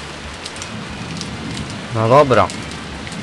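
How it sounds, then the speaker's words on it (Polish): Heavy rain falls in the Reksio video game, a steady hiss of downpour running throughout while someone speaks briefly over it. "Ale leje."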